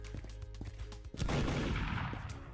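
In a video game, a sheriff fires a single loud gunshot after a few soft taps, and a dense burst and rumbling echo fade over about a second.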